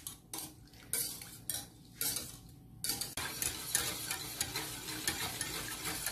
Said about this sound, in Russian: И все это нам надо хорошо перемешать.